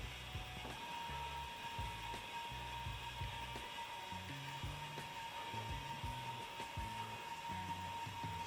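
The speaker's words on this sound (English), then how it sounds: "First thing we're going to do is press the button, and we're going to watch that spool spin." A MIG welder's wire feed motor whirs steadily as the trigger is held and the wire spool spins, giving a faint continuous hum with a thin tone and soft low pulsing throughout.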